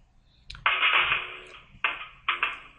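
A series of softphone dialing tones in call center software: one long steady tone followed by two shorter beeps, clear and close, with no voices.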